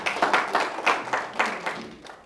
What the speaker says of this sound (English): you can clap hands for that